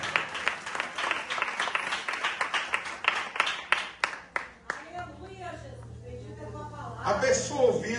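A church congregation claps loudly and steadily for about five seconds, then the applause stops and a voice speaks over a low hum.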